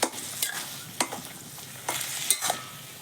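Taro leaves with green chilli and salt are stirred in a pan, a soft steady sizzle punctuated by several sharp scraping strokes of the spoon spaced irregularly, close and fairly quiet.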